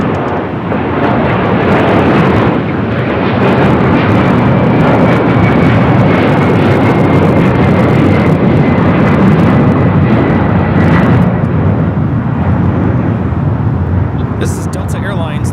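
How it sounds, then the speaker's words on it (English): A Delta Airlines Boeing 767-400ER taking off from LAX for JFK, a loud, continuous broadband engine roar up close that holds steady throughout, with a voice talking under it. "This is Delta Airlines 332 taking off to JFK on a 767 400 ER. It's a little loud."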